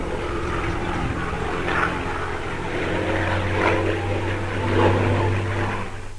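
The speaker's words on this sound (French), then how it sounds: "C'est à bord d'un avion identique à ceux de l'escadron, un Avenger datant de la Seconde Guerre mondiale" A WWII-era Grumman Avenger propeller aircraft drones in flight, a steady, loud engine hum and airscrew roar with a low throbbing tone that swells slightly at moments and never lets up.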